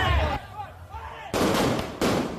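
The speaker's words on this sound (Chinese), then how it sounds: "街道鞭炮狂炸" Firecrackers go off in the street during a night City God temple procession in Nantou, Taiwan: a voice talks first, then two loud, sharp blasts crack out close by, each trailing off into a noisy wash.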